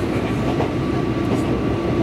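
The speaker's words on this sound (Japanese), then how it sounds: "この電車は臨時電車春の花巡り号佐野行でございます。" A Tobu Railway special Spring Flower train bound for Sano runs steadily, a close, continuous low rumble and rolling hum heard from inside the carriage.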